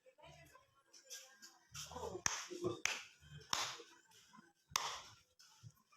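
A few sharp, isolated hand claps mark out a rhythm pattern during a music rhythm lesson. Each clap is crisp and close, spaced irregularly between a voice speaking rhythm syllables.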